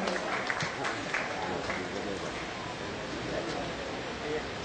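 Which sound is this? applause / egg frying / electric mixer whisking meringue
applause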